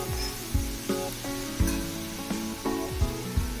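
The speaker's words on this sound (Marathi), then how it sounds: "वाटण चांगलं 2-3 मिनिटं चांगलं परतून घेऊया, तेल सुटेपर्यंत" Ground masala paste sautés in hot oil for a halwa fish curry, giving a steady close sizzle broken by regular scraping stirs about every half second.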